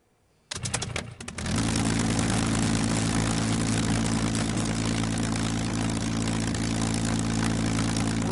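An UltraWings sport plane's propeller engine starts up in a VR flight game. A few sputtering coughs catch into a steady, loud droning hum that holds at a constant pitch, with no talking.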